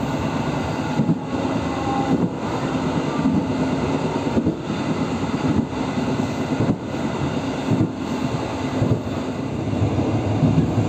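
A moving train approaching Cakung station makes a loud, continuous rumble heard from close by, with faint rhythmic rail clicks repeating about once a second throughout.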